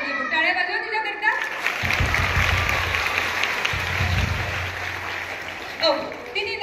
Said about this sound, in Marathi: टाळ्या वाजवा तिच्याकरता.